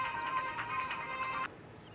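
A phone rings with an incoming call, a steady electronic ringtone melody playing for about a second and a half, then cutting off abruptly to a quiet room.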